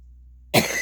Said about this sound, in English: That's the other problem I have with trying to sleep and rest, is coughing a lot